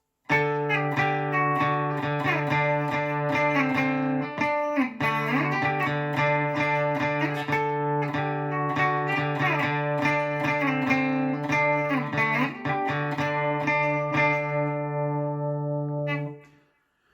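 Electric guitar plays the steady, repeating main rhythm riff of a song with a sustained low drone underneath, loud and close, ending abruptly near the end.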